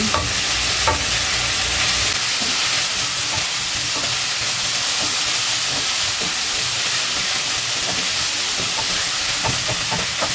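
Sautéed bitter gourd with egg is stirred in a pan, a steady loud sizzle of frying running throughout with scraping and clinking of the utensil against the pan, no talking.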